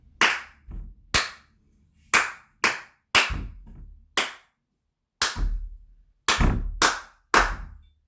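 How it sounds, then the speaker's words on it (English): Sharp, close hand claps in a ballet pre-primary class, eleven crisp claps beating out a rhythm in uneven groups with short silences between them, clear and alone with no talk. "we're going to clap this before we do it"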